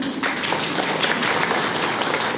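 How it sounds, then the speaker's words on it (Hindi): Applause from a gathered audience, a steady dense clapping wash heard alone, fairly loud and even throughout. "ताली बजाती।"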